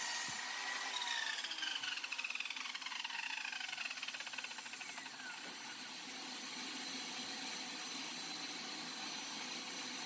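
A mitre saw cutting wood with a shop vac pulling dust, a loud steady whine with a dropping pitch as the blade spins down, then the vacuum keeps up a constant roar alone.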